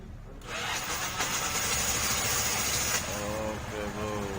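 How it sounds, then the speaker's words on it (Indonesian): A Honda Vario Techno 110cc motorbike from 2011 starts up and settles into a steady running idle, loud and close, with a faint rising tone near the end. "ini motornya udah nyala ya"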